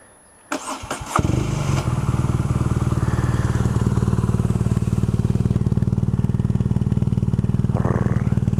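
A 2015 BMW R nine T motorcycle engine cranks with a few sharp bursts, catches, then settles into a steady, loud, low rumbling idle.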